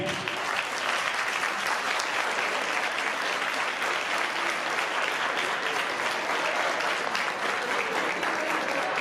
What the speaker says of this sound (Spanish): quiero que el primer aplauso de la noche sea para todos los voluntarios y voluntarias de Cruz Roja Jaraí